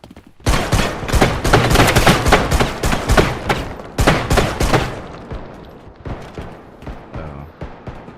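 Dense bursts of video game gunfire, rapid automatic shots rattling loud and close for several seconds, then thinning to scattered, more distant pops and shots.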